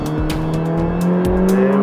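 A 2019 McLaren 600LT sweeps through a chicane on a race circuit, its engine loud and close as the revs rise and dip through quick gear changes, with a brief tyre squeal.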